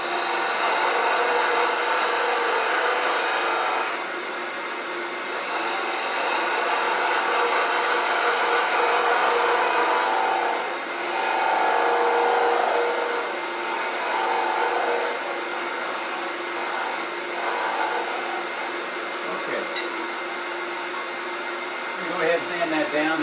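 A wooden acorn spinning on a wood lathe while being sanded gives a loud, continuous whirring hum with a rough abrasive hiss that rises and dips as pressure changes, with no talking.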